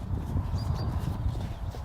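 Horse hooves clip-clopping steadily on the ground during a jumping training session with young horses, a continuous close rhythmic trampling with low thuds and a faint high whinny-like tone midway.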